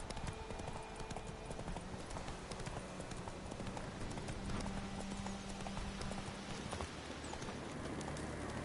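Roach, a horse in The Witcher game, gallops with steady rapid clip-clop hoofbeats, close and continuous over a dense outdoor ambience, alone without talk.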